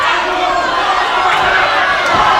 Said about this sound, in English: The crowd calling for one more time, going for another splash